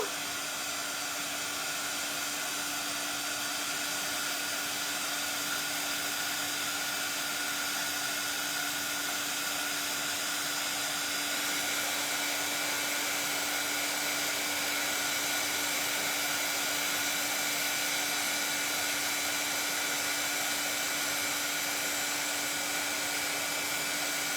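An electric heat tool blows steadily to melt embossing powder on a card, a continuous whooshing fan hiss with a constant whine, unbroken and close throughout, with no talking.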